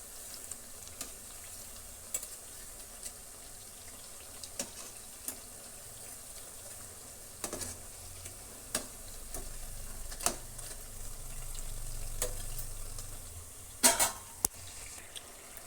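Chakkali fry in hot oil with a soft, steady sizzle, while scattered clicks and taps of turning them break through and a louder clatter comes near the end.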